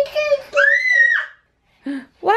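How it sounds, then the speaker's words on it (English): Children scream indoors at home in loud, high, drawn-out shrieks, close to the microphone, broken by a short pause before a final burst of shouting voices. "Why are you screaming?"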